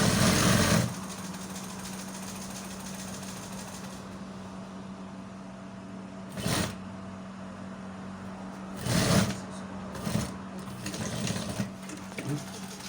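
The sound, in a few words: sewing machine stitching a bomber jacket sleeve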